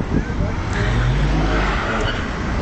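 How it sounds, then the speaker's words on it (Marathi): A Ferrari F430 gives a steady, fairly loud engine and road rumble with a broad roar throughout and no clear speech. "Ferrari F430"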